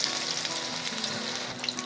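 Baby corn pieces are lowered into hot oil for deep frying, giving a close, steady crackling sizzle with small popping bursts throughout.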